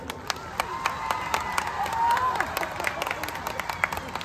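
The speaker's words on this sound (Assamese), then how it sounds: "তালি বজাবৰ কাৰণে অনুৰোধ কৰিছোঁ" A large crowd of about 10,600 mothers at a public gathering clapping hands, scattered sharp claps over a murmuring crowd with a voice talking in between.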